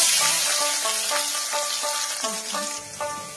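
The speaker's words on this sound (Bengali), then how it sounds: "তেল গরম হয়ে গেছে, এবার পেঁয়াজগুলো দিয়ে দেবো।" Onions frying in hot oil give off a steady, fairly loud sizzle that eases slightly over a few seconds, with tonal background music running underneath.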